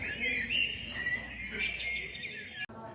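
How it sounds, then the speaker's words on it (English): Steady electronic-sounding bird chirps and tweets play continuously from a box at an arboretum exhibit, slightly tinny, as if from a small speaker, then cut off abruptly near the end. "this box here makes bird noises"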